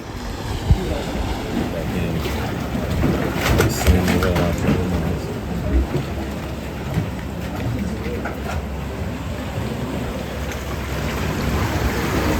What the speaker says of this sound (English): when it's high tide, the water slops in it and makes a huge bang like thunder